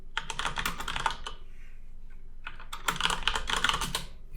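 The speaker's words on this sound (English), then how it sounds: "Let me type in." Keys clatter on a computer keyboard in two quick bursts of typing separated by a short pause, close and clear with no talking.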